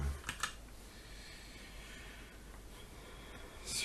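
Computer keyboard and mouse in use during a ZBrush 3D sculpting session: a few quick, faint clicks and keystrokes at the start and again at the end over a quiet room hiss.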